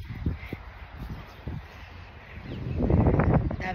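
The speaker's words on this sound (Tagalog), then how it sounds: "Daming birds." Outdoor birds call in harsh, crow-like caws, several scattered calls, with wind rustling against the microphone and a louder burst of calls toward the end.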